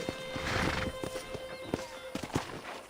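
A horse whinnies loudly at first, then hooves clip-clop in an uneven walking rhythm close by, with soft game-like ambience behind, in Red Dead Redemption on PC.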